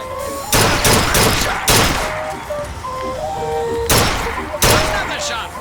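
Gunshots at a shooting gallery in BioShock Infinite, four loud broadband cracks spaced irregularly across several seconds, each trailing into a short echo, with chiming carnival tones and a game voice talking between them.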